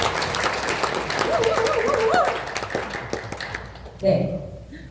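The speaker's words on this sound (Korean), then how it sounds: "여러분 각자를 위해서 한번 박수하고 시작하도록 하겠습니다." A seminar audience in a hall bursts into clapping that swells and then trails off, with someone speaking over it and a sharp tap near the end.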